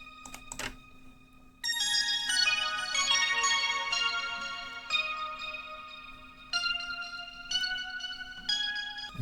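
Retro synth pad plugin plays a little melody of bright, bell-like sustained notes with clear tonal steps, preceded by a short percussive burst, alone and fairly quiet.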